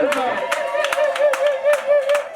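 An audience at a church celebration claps for an elder, a lively burst of clearly separated hand claps in quick rhythm, with a sustained tonal hum and voices running underneath.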